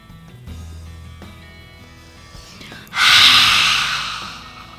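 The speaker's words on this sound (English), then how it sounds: "So we're gonna do a little lion's breathing." Forceful yogic lion's breath exhale: a long, loud, breathy rush of air bursts out near the end, closely miked and alone after a quieter stretch of low hum and soft movement.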